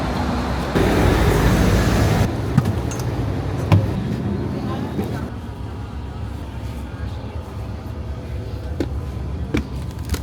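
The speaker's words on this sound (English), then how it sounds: "And this is our bus." A bus engine idling among surrounding road traffic in Chiang Mai, Thailand, a steady broadband rumble with a heavier burst early on, then continuous engine and traffic noise with occasional knocks and clicks, voices faintly present.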